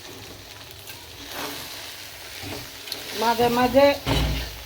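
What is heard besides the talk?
rice being sautéed in a pot for pulao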